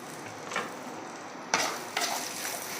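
Ground spices, garam masala, meat masala and coriander powder sizzle in a hot pan for beef pepper roast, with a steady frying hiss and a few scraping stirs close by.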